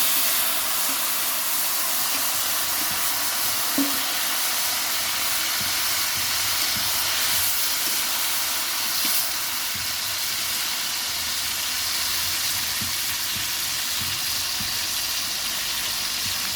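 Boiled, peeled raw tamarind hits hot tempering oil for a tamarind pickle, giving a loud, even hiss with scattered small crackles and pops throughout and no talking.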